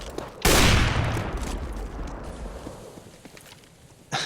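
A sharp pistol shot bursts out in Counter-Strike on de_dust, followed by a long decaying echo tail, and a second crack cuts in right at the end.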